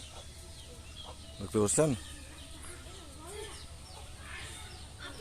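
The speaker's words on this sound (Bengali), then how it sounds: "ওর এখানে দেখেন পুকুর পাড়ে গ্রামের দেশি মুরগি" Native village chickens by a rural pond give a short burst of clucking partway through, loud and close for a moment, over quiet outdoor ambience while someone talks.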